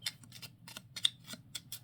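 A deck of mini tarot cards being shuffled by hand, giving a quick series of soft papery riffles and flicks, close and quiet.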